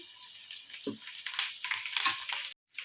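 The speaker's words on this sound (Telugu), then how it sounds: "అల్లం వెల్లిగడ కొత్తిమీర పేస్ట్ వేసుకోవాలి వేసుకొని మంచిగా ఫ్రై చేసుకోవాలి" Ginger, garlic and coriander paste frying with onions in oil for a village-style fish curry, a soft close sizzle with faint stirring scrapes, cut off briefly near the end.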